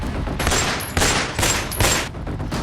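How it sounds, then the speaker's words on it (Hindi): Indiscriminate gunfire during a shooting in Danapur, Patna, heard as a rapid series of loud, sharp cracks coming in clustered bursts, alone with no talk. "बिहार में फिर खूनी खेल, बेखौफ बदमाश, अंधाधुंध फायरिंग।"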